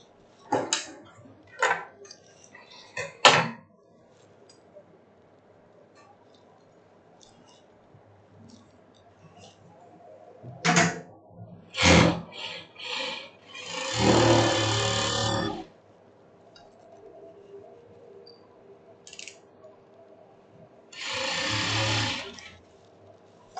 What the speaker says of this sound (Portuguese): Vamos aqui para o overlock.